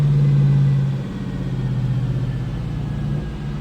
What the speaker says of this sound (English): we have the vehicle up to temperature, got the RPM set on the dyno, and we'll get ready to make our base pull right now